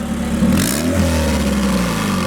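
The engine of the Pink Widow, a turbocharged drag car with an eBay turbo, revs briefly, climbing in pitch and dropping back into a loud, rough idle close by.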